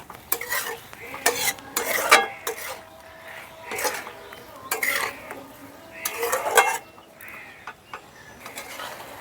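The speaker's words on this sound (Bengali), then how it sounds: "আমি আলতো হাতে নাড়াচাড়া করে কিন্তু চাটনিটা বানিয়ে নিচ্ছি।" Star fruit chutney with sugar stirred gently in a pan, with repeated rhythmic scraping and clinking of the spoon against the pan in short bursts over a faint background sizzle.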